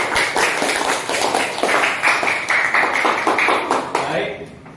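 Classroom of schoolchildren clapping for everyone at the end of a routine, a dense, rhythmic patter of many small hands close by, with voices chanting along before it fades out.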